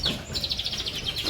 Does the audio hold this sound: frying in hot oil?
no